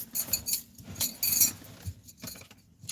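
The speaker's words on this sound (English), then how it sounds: "I also have on my spiritual bangles and jangles. It's making noise as well" Bangles worn on a wrist jangle outdoors in bright, metallic clinks, with several light bursts of chiming rattle coming and going, close by and fairly soft, with no talk.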